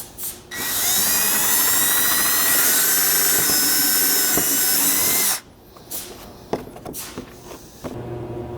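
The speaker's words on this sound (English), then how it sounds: "just drill all the way down through the front of this panel." A loud power drill whines steadily for about five seconds as it bores through a plastic tailgate panel on a Lexus GX 470, then stops, leaving faint clicks and handling noises.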